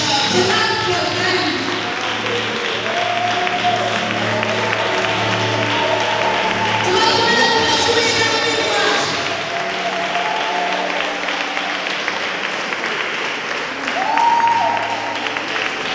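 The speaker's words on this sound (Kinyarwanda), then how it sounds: "tugiye kubakomera amashyi" A church congregation applauds newly installed pastors, sustained clapping filling the space for the whole stretch, with singing and voices rising and mixing in over the applause.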